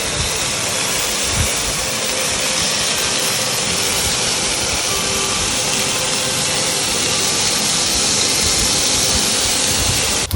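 Spaghetti pasta kebabs fry in a pan with a steady, even hiss that holds at one level throughout, close and fairly loud, with no voices.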